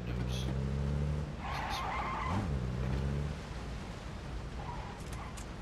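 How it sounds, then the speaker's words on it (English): A car in the video game PUBG rumbles and whines close by, with its engine pitch sliding, under a steady background and a brief voice. "Car coming."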